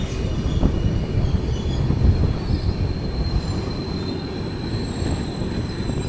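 Kakinada Port - Sainagar Shirdi Express rolling into Mottumari Junction, a steady close rumble of wheels and carriages with faint high squeal from the rails throughout, no voices.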